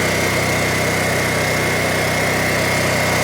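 A backup power generator engine runs loud and close, with a dense, buzzing, high-revving drone that stays constant throughout with no voices.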